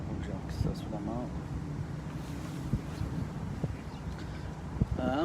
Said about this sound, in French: Un petit vent, il fait beaucoup moins chaud qu'hier.